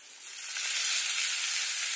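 Onions fry in hot oil in a pan for a chicken curry, a steady bright sizzle that swells slightly after the first moment and then holds evenly, close and with no talk.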